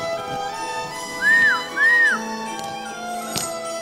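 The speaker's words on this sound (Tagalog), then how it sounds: "ang sipol ni Urias" Two short rising-and-falling whistles sound in quick succession over a steady background hum, with a faint thud near the end.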